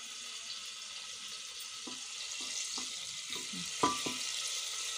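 Butter melting and gently sizzling in a pan for veg biryani, a soft steady hiss with occasional small pops and crackles, heard close and quiet with no talking.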